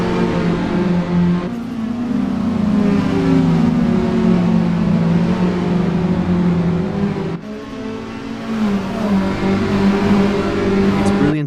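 Toyota S-FR race cars racing at Lime Rock in Assetto Corsa, a loud sustained engine drone with shifting pitch as several cars run together, a brief dip in the middle before the revving climbs again.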